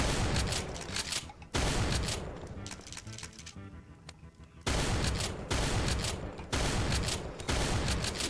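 Dense video game gunfire in loud sustained fusillades, broken by a quieter stretch of scattered shots before the heavy firing resumes.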